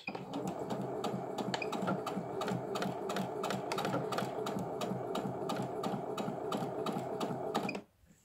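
A Pfaff Passport 2.0 sewing machine running steadily at low speed, a quiet, even mechanical whir with a fast regular stitching tick that stops abruptly near the end.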